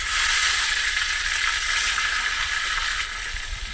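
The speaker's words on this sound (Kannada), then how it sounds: "ನೋಡಿ ಸಾಸಿವೆ ಚಟಪಟ ಅಂತ ಹೇಳ್ತಾ ಇದೆ, ಸೌಂಡ್ ಮಾಡ್ತಾ ಇದೆ." Mustard seeds splutter in hot oil as curry leaves go in, a steady loud crackling sizzle throughout that eases slightly toward the end, with no voices.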